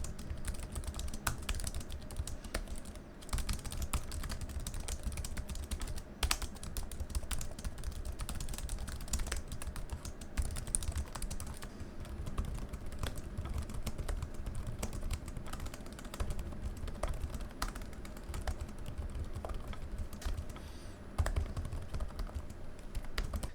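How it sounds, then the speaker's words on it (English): Typing on two laptop keyboards, a Lenovo Yoga Slim 7 Pro and a Huawei Matebook 14, one soft and quiet, the other clickier; rapid steady key taps continue near and clear for the whole stretch with no talking. "This is a very soft and very silent feeling keyboard, while this is a bit of a clickier feeling keyboard when using it."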